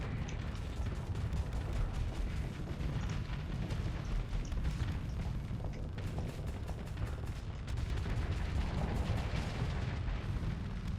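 Starsector spaceship weapons fire at two ships in a steady, dense barrage of rapid thuds and crackling blasts. The barrage is fairly quiet and continuous throughout, with no speech.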